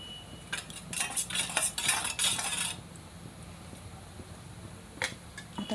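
Eggs with turmeric and salt beaten with a spoon in a bowl, quick clinking strokes in a burst of about two seconds, then a pause and a couple of faint taps.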